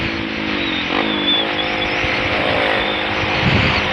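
A 2016 Kawasaki D-Tracker 150 motorcycle engine drones steadily with wind rushing past, the pitch rising and falling slightly as it rides along.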